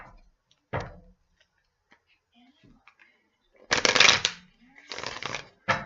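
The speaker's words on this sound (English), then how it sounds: "One more shuffle." Tarot cards are riffle-shuffled in two brisk, close bursts, with a softer tap or handling sound earlier and quiet stillness between.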